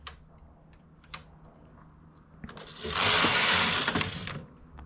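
A knitting machine carriage sweeps across a row while making eyelet lace holes, giving a steady rushing whir of about two seconds after a few soft, isolated clicks.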